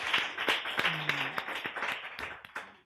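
A small audience claps at a live show, a loose, uneven scattering of hand claps at moderate volume with a brief murmur of voices underneath, tapering off toward the end.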